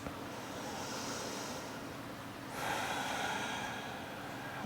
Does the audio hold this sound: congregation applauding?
no